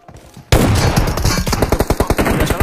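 Gunfire in a mobile battle-royale shooter game, starting after a quiet half-second as a loud, dense stream of rapid automatic shots in a fast regular rhythm, close and dominating, with no talk over it.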